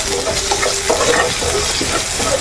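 Green chilies fry in hot oil for a clam meat pickle, giving a continuous loud crackling sizzle close by, with some stirring scrapes and no talk.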